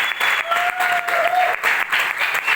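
Steady, dense audience applause fills a hall for a woman receiving a cultural award, loud and continuous, with a faint whistle tone above the clapping.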